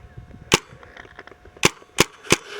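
A paintball marker fires outdoors during woodsball practice, four sharp cracks spaced apart, the first alone and the last three in quicker succession, set against quiet ambient background.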